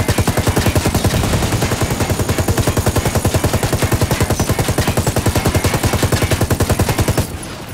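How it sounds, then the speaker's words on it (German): Loud rapid-fire gunshots in the video game Ghost Recon Wildlands rattle in a fast, even stream for about seven seconds, then cut off abruptly. "3-4 Schuss, um einen Fahrzeug platt zu machen"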